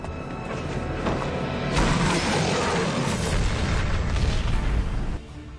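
Loud rumbling blast from the film Resident Evil: Apocalypse (2004), with crackling debris and roaring fire, building in intensity before abruptly dropping off.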